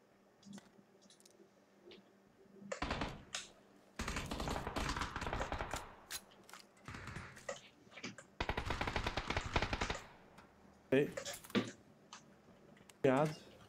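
Bursts of automatic gunfire from the battle royale video game PUBG, several loud rapid volleys separated by short gaps, with clicks and game sounds in between.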